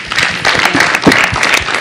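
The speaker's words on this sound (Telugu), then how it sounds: "వాడికి ఒకసారి గట్టిగా చప్పట్లు కొట్టండి అబ్బాయి" A television studio audience on a Telugu comedy talk show bursts into brief, loud clapping, close and dense for a couple of seconds.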